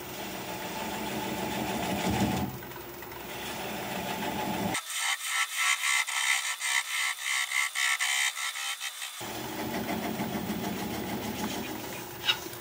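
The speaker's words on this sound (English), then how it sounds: "I'm going to turn the speed down to 400 RPM on the lathe. And I'm just going to keep working away at that little nub" A wood lathe turns a vase at a slow 400 RPM while a bowl gouge cuts at a small nub, giving a steady rhythmic scraping and whirring with regular pulses through the middle, close and fairly loud.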